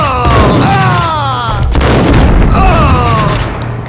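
Gunfire in the Max Payne game: heavy booming shots and rumbling bursts fill the scene loudly, with whooshing swept tones and game voices mixed in.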